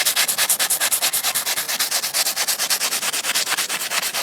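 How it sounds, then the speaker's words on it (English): An old piece of sandpaper is rubbed back and forth over a surface to smooth it, giving steady, rhythmic, close-up rasping strokes at an even pace throughout. "I have this old piece of sandpaper, and I'm just going to make it a bit smoother."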